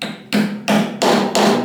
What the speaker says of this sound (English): and I'm going to use a plastic hammer